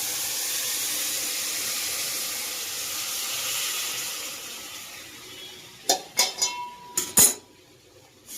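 Hot jaggery water hits roasting wheat flour for sheera, a loud continuous steamy hiss that fades, followed by several sharp close clatters of a utensil stirring in the pan.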